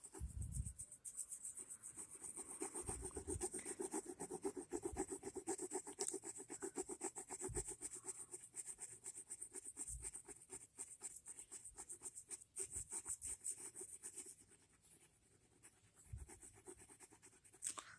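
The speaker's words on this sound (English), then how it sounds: "I am using a woodless graphite pencil in 8B" A woodless 8B graphite pencil shades across paper in a steady, soft scratchy rasp, with continuous close strokes and brief pauses and no voices.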